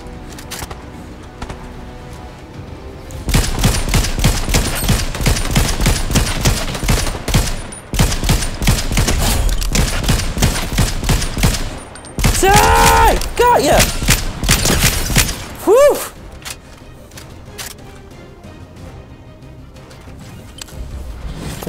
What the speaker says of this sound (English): I'm seeing gunshots fly.